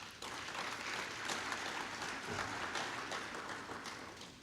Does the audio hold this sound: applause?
yes